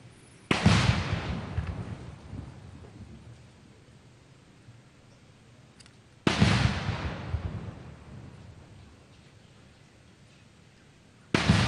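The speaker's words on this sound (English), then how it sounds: "The guns salute." Ceremonial gun salute fired at the opening of a military golf tournament in Diani, Kwale: loud booming blasts about six seconds apart, each rolling away in a long fading echo outdoors.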